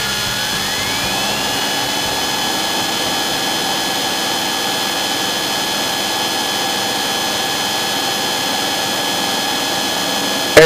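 A Piper PA28 Warrior light aircraft's engine drones loud and steady at full power during takeoff, its pitch climbing in the first seconds and then holding a constant, close cabin roar.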